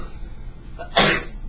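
A single sharp sneeze bursts out near the end of a quiet room-tone passage, loud and close, preceded by a brief inhale.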